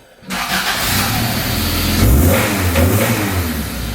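A Honda B16B Type R engine swapped into an EG Civic fires up and revs hard, a loud close roar that rises, dips, and climbs again in a couple of throttle blips.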